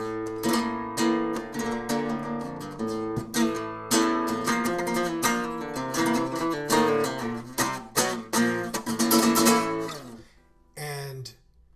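Flamenco guitar plays in the tangos form, with bright rhythmic strums and quick plucked runs that pulse steadily, then break into a short pause before a final flourish.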